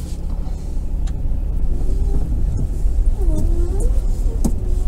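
A car engine hums steadily as the vehicle drives and turns around on a road, the motor noise close and constant with a few faint rattles and squeaks.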